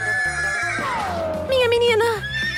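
A horse gives a loud, close whinny that rises and then falls in pitch over about two seconds, with a brief neigh-like tail at the end.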